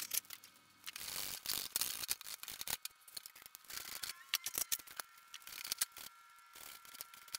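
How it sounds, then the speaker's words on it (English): A none-too-sharp hand planer shaving wooden paddleboard blanks clamped to a workbench, giving repeated rasping, scraping strokes in an irregular rhythm, close and moderately loud with no talk. "then got to work with the planer"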